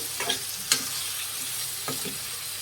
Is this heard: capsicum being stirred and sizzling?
yes